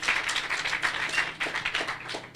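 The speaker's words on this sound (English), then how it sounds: "So we want to clap them, thank them for that." Applause at an outdoor groundbreaking ceremony for a stadium and playground, thanking a sponsor: a small crowd claps steadily and fairly faintly for a couple of seconds, with no voices over it.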